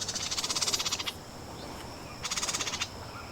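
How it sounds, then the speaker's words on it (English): Birds call in a garden in two rapid bursts of repeated chirping notes, the first lasting about a second, then a pause and a second burst near the end, fairly close and clear over a quiet outdoor background. "Can you hear the birds?"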